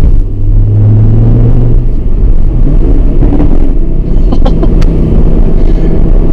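A loud, deep, steady engine rumble comes from an Audi RS3 car, close and continuous throughout, with a few brief sharper clicks near the end.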